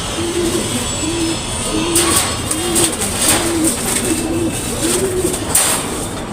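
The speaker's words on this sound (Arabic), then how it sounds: "ادي اهو الحمام اهو" Pigeons in a loft coo repeatedly in a steady rhythmic pattern, close and clear over a constant background hiss.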